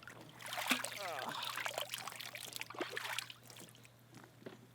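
Water trickles and dribbles out of a truck, a faint, uneven splashing and pouring with scattered drips, while a person's voice briefly sounds over it.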